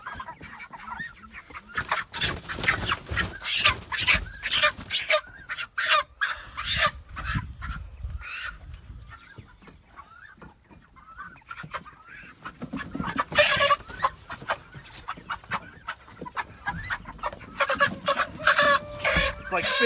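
Backyard chickens clucking and squawking in rapid, uneven bursts close by before butchering, with people talking at times among the birds.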